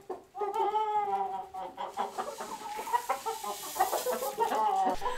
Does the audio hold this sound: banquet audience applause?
no